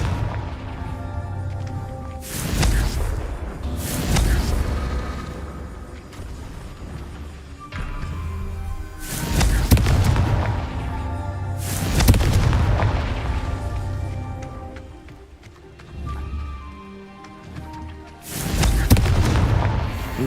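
Repeated Confringo spell explosions in the Hogwarts Legacy video game, loud booming blasts arriving every few seconds, some in quick pairs, over a rumbling background of combat sounds.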